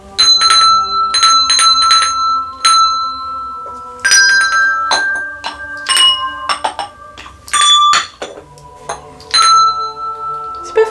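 Several bells ring out in quick, uneven strikes, bright and close, their tones overlapping and lingering between clusters of hits.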